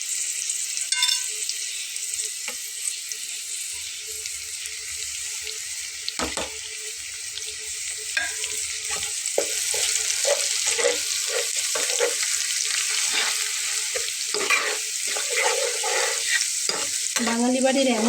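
Ground spice paste sizzles in a hot pan for a Bengali dish of taro and hilsa fish head, with steady close frying hiss and repeated scraping strokes of a spoon stirring throughout.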